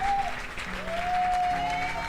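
A church congregation applauds steadily during an Easter Sunday worship service, a dense, continuous wash of clapping at moderate level with faint sustained tones running beneath it.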